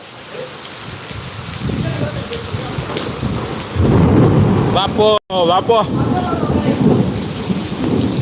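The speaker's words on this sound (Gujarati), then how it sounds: "પવન સાથે વીજળીના ધડાકા સાથે" Heavy rain pours with rumbling thunder and wind buffeting the microphone during a windstorm in Amreli, Gujarat, loud and close, while a person exclaims over the storm.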